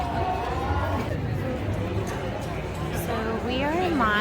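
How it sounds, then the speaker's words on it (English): A crowd at the Salem Haunted Happenings festival in Salem, Massachusetts, a steady murmur of many voices and footsteps nearby, with individual speakers rising now and then above the babble. "And this is the crowd."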